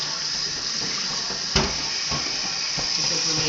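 Water streams from a tap into a saucepan, a steady close rushing hiss that runs throughout with a brief knock partway through.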